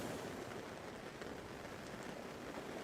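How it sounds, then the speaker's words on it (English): Steady, soft rain falling around a tent, a continuous even hiss with no breaks or voices for the full stretch. "There's only the sound of the rain,"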